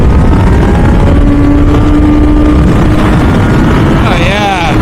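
A Yamaha FZ1 motorcycle engine roars loudly under heavy wind rush while riding, with steady tones and a falling-then-rising pitch sweep near the end as the rider shifts down through the gears.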